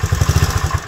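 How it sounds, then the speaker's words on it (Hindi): An old motorcycle engine idles with a rapid, even low thumping pulse, close and steady through the whole short moment, with no talking. "चले फिर तजम्मल, यार ये मोटरसाइकिल पुरानी,"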